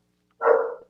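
A single short bark from a dog, close and fairly loud, rising abruptly after silence and trailing off within half a second.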